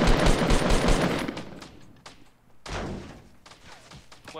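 Rapid bursts of automatic gunfire in a Fortnite match, loud and close, in fast clusters broken by short pauses, with heavy thuds mixed in and no speech.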